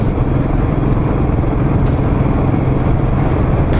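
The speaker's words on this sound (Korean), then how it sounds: "로얄 엔필드가 이런 길에는 아주 잘 어울리는 것 같아요. 천천히 이 통통통통 거리면서 달리니까" Royal Enfield Classic 500 motorcycle ridden slowly along a rural road lined with cherry trees in winter, its engine giving a steady, loud, close low thump with constant wind rush, no speech.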